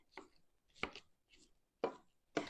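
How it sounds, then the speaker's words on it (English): A meat chopper tool breaks up meat in a new skillet, giving five distinct scraping chops at an uneven rhythm, close and fairly loud against a quiet background. "it works really good at breaking up your meat"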